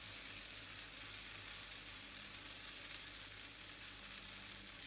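Capers frying in a pan for a penne pasta sauce with tomato and chilli, a steady, faint, continuous sizzle with no talking.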